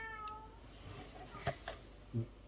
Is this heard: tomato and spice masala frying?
no